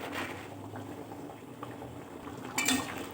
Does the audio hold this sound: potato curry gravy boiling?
yes